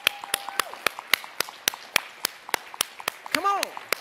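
An audience at a keynote on race and disability claps together in a steady, evenly spaced rhythm of sharp, loud claps, with a voice talking over them.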